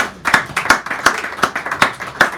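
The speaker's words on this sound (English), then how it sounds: "Give George a round of applause, please." Close, crisp rhythmic clapping from a few hands for a performer at a café open mic in San Francisco, quick evenly paced claps in a small room.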